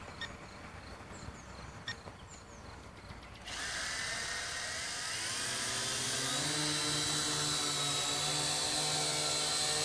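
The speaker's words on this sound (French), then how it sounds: "on a le petit bouton on-off sur le drone et on est parti" Syma X8W quadcopter drone switching on and taking off, its rotors spinning up into a steady, loud whine that holds close and continuous, preceded by quieter handling sounds.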